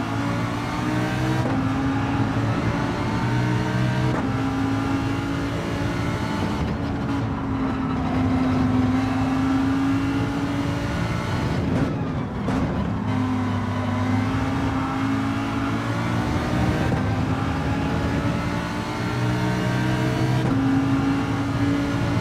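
Race car engine in the Gran Turismo 7 video game during an online daily race, a steady loud engine drone with shifting pitch and gear changes running throughout, no talk.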